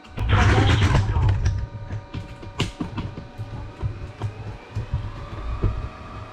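A Roborock Flexi Lite wet-dry vacuum runs its brush-roller self-cleaning cycle: a loud whooshing burst at first, then close mechanical whirring with irregular creaks and clicks as the roller spins on its station.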